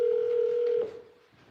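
Telephone ringback tone on an outgoing call plays as a steady single tone for under a second before fading into quiet line noise.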